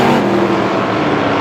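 Stock race cars at Star Speedway, a loud, dense roar of several engines at speed during a feature race, continuous and close, with no talking.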